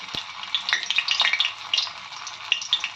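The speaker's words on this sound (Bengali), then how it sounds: "আমরা অল্প তেল দিয়ে এগুলোকে ভেজে নেব। তেল আমাদের গরম হয়ে গেছে, এবার একে একে আমরা এগুলোকে তেলের উপরে দিয়ে দিচ্ছি।" Meat-stuffed snacks shallow-frying in a little hot oil, a steady bright sizzle with crackling pops and spatters throughout, close and alone with no talk.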